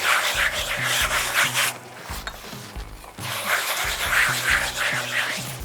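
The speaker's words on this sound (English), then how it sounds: "We're going to rub quite a bit of salt into the skin of the belly." Salt is worked into the skin of a pork belly by hand, giving close, rhythmic rasping rub strokes in two bursts with a short pause between them, and no voices.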